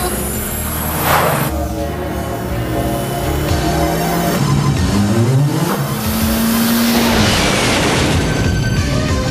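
A cartoon vehicle engine revs at full throttle, a loud rising and falling whine over a dense layer of music and effects, with a sweeping pitch climb partway through.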